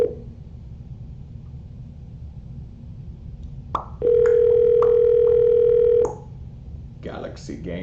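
A telephone line carries a steady, loud dial tone lasting about two seconds, preceded by a short click and a brief blip, over a low background hum, with faint talk starting afterward.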